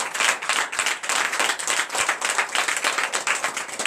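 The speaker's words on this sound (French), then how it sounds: "donnez encore des vives acclamations" A church congregation at a night deliverance and prophecy service bursts into loud, dense clapping, a fast irregular patter of many hands close by, sustained without break; distinct cheering voices are hard to pick out.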